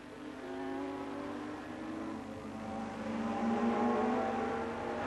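Yamaha and Kawasaki racing motorcycles at Brands Hatch in 1977 give a steady, distant engine whine that swells as the bikes pass, heard with no commentary over it.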